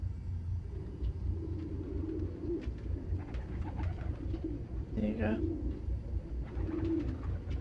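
Pigeons in a park in the Spider-Man Miles Morales game give soft, repeated throaty coos over a low rumbling city background, while a person speaks briefly.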